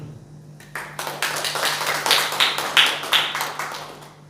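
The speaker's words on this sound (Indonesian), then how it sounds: "Beri tepuk tangan." A church congregation breaking into applause after a sermon prompt, starting abruptly and building into a loose rhythm of hand claps and taps, moderately close, with no talking over it.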